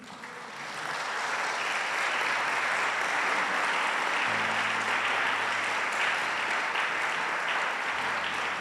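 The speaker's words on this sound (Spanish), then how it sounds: "¿Le puedo dar un aplauso al Señor?" A church congregation applauds during a Spanish-language service, a steady, dense wash of clapping that swells in after a moment and holds evenly for several seconds, with a faint low tone underneath.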